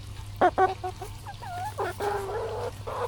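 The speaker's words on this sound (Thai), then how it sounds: "เชื่องมากเลยนะไก่นะดู" Farm chickens cluck and make soft calls nearby, a run of short clucks and warbling notes with no talk over them, above a low steady hum.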